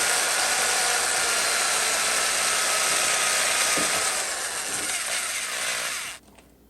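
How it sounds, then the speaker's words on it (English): An electric drill bores holes into the headstock of a Gibson SG Standard guitar, a loud, steady, close-up whirring that runs unbroken for about six seconds before cutting off abruptly. "I was really nervous about drilling holes in the headstock."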